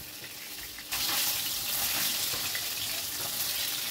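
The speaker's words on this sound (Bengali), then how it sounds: "উল্টে পাল্টে মাছগুলোকে আমি বেশ কড়া করে ভেজে নিচ্ছি।" A batch of fish turned and fried crisp in hot oil: after a quiet moment the sizzle jumps up sharply and keeps up a loud, close, continuous crackle with no talking.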